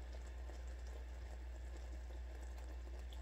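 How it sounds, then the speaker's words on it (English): Hot caramel in a pan for macaron centers hisses and bubbles steadily, a close, soft, even seething with faint spitting and no voices. "That is just going to hiss and bubble and spit and be obnoxious for a couple seconds here"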